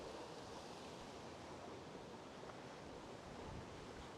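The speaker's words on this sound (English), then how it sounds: "I have the water from the fountain coming towards me now with the wind." Fountain water blown by the wind near Kastellet in Copenhagen on a summer day, a steady broadband splashing wash that stays even and close throughout with no voices.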